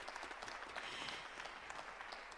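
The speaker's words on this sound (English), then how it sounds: "Yes, let's clap for that." Commencement crowd at a fall university graduation ceremony claps in a broad, even wash of applause, heard faintly and at a distance throughout, with no voices over it.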